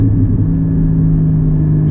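A Porsche 718 GT4 with a manual gearbox drives along, its engine giving a steady, loud low rumble heard from inside the car, with no clear rise in revs.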